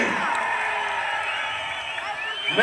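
A crowd at an AIADMK political rally speech by a politician in Udumalaipettai, cheering and whistling in a continuous, dense roar, with shouted voices rising through it and swelling at the end.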